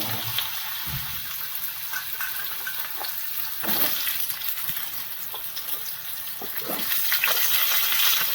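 Potato pieces frying in hot oil over a high flame, a steady dense crackling sizzle throughout with occasional stirring clatters, close and fairly loud.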